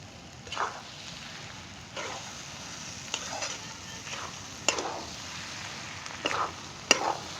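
Egg bhurji being stirred in a pan after chilli powder, turmeric and coriander go in: a soft continuous sizzle with a handful of short scraping strokes of the spatula, close and moderately quiet, no talking.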